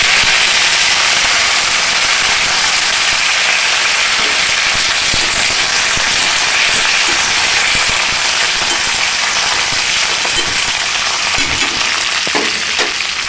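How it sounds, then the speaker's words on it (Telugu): Curry leaves spluttering in hot oil for a tempering, a loud continuous crackle and sizzle with sharp pops scattered throughout, close up and with no talking. "ఇప్పుడు కరివేపాకు వేసుకోవాలి."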